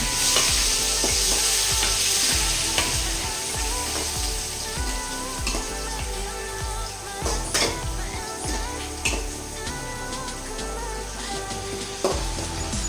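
Curry leaves and green chillies crackle and sizzle steadily in hot oil, a dense close frying hiss with occasional sharper pops and light stirring clinks of utensils against the pan, no voices.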